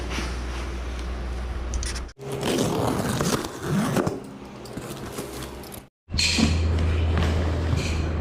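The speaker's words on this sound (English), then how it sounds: "I also ordered some clips, and this is something else. So let's quickly unwrap this." A package of studio clips is unwrapped up close, with crinkly plastic rustling and scraping in steady bursts, separated by two brief silent gaps.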